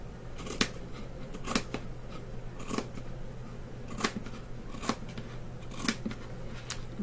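Scissors snip the seam edges of a fabric rag quilt in a steady rhythm of crisp, close cuts about once a second, with a faint hum underneath.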